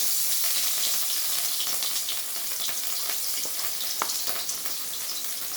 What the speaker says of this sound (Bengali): কড়াইয়ের তেলটা আমার বেশ গরম হয়েই গেছে। আমি একে একে এবার মাছগুলো দিয়ে দেবো।